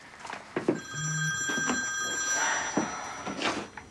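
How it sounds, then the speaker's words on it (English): A mobile phone rings indoors with a repeating electronic tone that sounds in several bursts, fairly loud and near, over a quiet room with scattered background noise. "Who the hell forgot to turn their phone off?"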